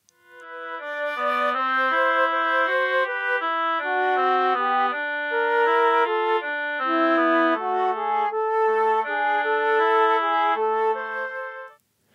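Two-part fugue episode built from a sequence with a harmonic turn to a cadence, played as two interweaving melodic lines on a clean keyboard-like instrument, steady, clear and alone.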